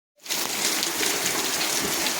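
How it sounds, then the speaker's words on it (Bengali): Rain begins abruptly after a short silence and quickly becomes a steady, loud, hissing downpour on surfaces outdoors, continuing evenly with no voices. "এই দেখো বন্ধুরা, বৃষ্টি আরম্ভ হয়ে গেছে"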